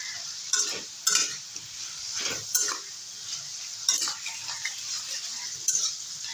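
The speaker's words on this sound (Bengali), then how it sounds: "ভালো করে কষিয়ে নেব দিয়ে দেবো কাঁচা লঙ্কা বাটা" Fish being stir-fried with ginger paste, turmeric and chili powder in a pan for a maya fish curry with drumsticks and pointed gourd: a soft steady sizzle with several sharp spatula scrapes and clinks, no talking.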